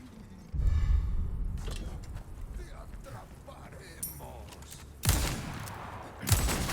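Hand cannon gunfire in Resident Evil 4, sharp blasts near 5 s and 6.3 s over a busy game soundscape, with speech running underneath.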